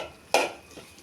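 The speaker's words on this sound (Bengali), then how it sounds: "আর নেড়ে ছেড়ে ভেজে ভেজে ভর্তা করতে হয়" A single sharp scrape of a spoon against the pan while raw banana bharta is stirred and fried, followed by a softer second scrape and a quiet background sizzle.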